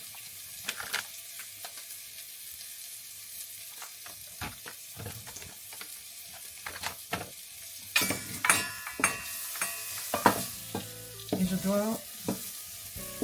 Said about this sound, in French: je mélange un peu les spices